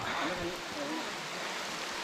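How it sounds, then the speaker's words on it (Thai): Rain falls steadily on a mountain hiking trail at Phu Soi Dao, a soft even hiss filling the background, while a voice speaks briefly at the start. "ตอนนี้คือฝนตก แล้วเราก็ไม่ได้เอาอะไรกันฝนเลย"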